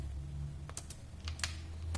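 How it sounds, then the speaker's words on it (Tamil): Keys clatter on a computer keyboard while words are typed into MS Word, a few quick clustered taps standing out clearly over a steady low hum, with no talking. "இப்போ இங்கே வந்து நம்ம சில வேர்ட்ஸ் டைப் பண்ண போகிறோம்"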